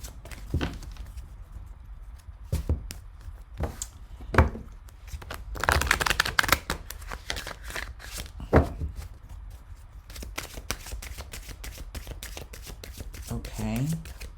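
A deck of angel answer cards is riffle shuffled by hand, with crisp fluttering bursts and light tapping close up, while a person talks throughout.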